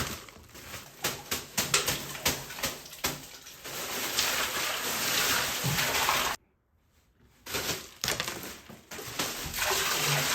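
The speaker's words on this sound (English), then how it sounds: "We are getting ready to take an ice bath." Water sloshes and splashes in uneven bursts as someone lowers into an ice bath, with a brief near-silent gap before the churning resumes.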